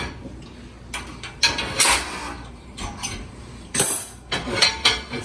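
A cast iron pan is lifted and moved about in a home kitchen, producing a string of close metallic clanks, scrapes and knocks in an irregular rhythm.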